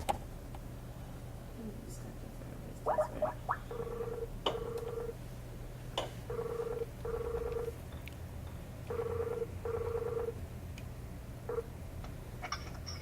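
A phone ringback tone pulses in pairs of short beeps, repeating several times at moderate volume over a steady low hum, with faint clicks between.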